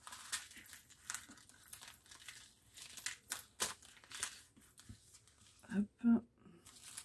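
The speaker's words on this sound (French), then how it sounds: "Et là, c'est donc l'enveloppe." Paper envelope handled close up, with crinkling, tearing and sliding rustles across the span plus a couple of sharper knocks near the end, all fairly quiet.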